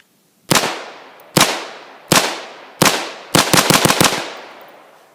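A rifle on a closed bolt fed from an E-Lander 40-round magazine fires four sharp single shots at a steady pace, then a quick rapid string of shots, loud and close, each ringing out briefly.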